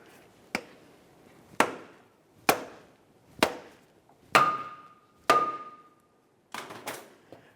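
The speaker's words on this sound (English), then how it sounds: "you could use a rubber mallet along the far end here" Sharp, hard knocks of a rubber mallet driving a new CV axle into a 1994-1997 Honda Accord, about eight blows with short pauses, one ringing briefly with a metallic tone; no talking.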